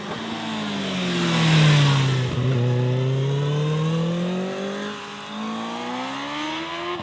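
A 2024 Kawasaki Ninja ZX-6R supersport motorcycle engine revs close and loud, pitch rising, dipping and climbing again through a smooth, continuous run.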